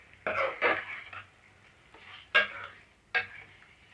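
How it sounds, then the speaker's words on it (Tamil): Chicken being mixed with mango, capsicum and green chilli in a pan, giving several short stirring and scraping bursts with brief pauses between them, close and fairly quiet. "சிக்கன் ஃபுல்லாக படுற மாதிரி மிக்ஸ் பண்ணி விட்டுக்கணும்."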